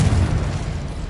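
A Confringo blasting spell explodes in Hogwarts Legacy, a short heavy low boom that swells and lingers, loud and close, with no voice over it.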